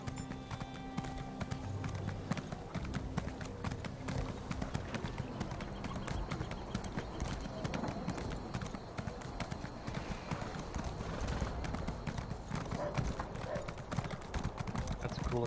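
Horse hooves clip-clop in The Elder Scrolls Online, a quick, steady stream of light clattering steps that runs throughout at modest level, with game sounds layered around them.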